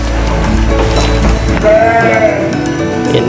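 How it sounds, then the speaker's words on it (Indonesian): Lambs bleat in a sheep breeding pen, a wavering high cry standing out near the end over a dense, loud bed of pen noise and other animal calls. "Ini cempe, dan enggak cuma satu, indukannya di sana satu."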